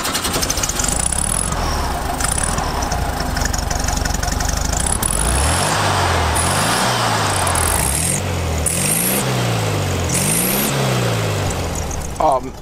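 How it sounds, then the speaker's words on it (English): A Ford Fiesta ST with a 1.6 liter engine revved repeatedly toward the red line while standing still, rising and falling sweeps after a steady idle, loud and close, with people talking over it. "it actually lets you rev it to the red line when standing still"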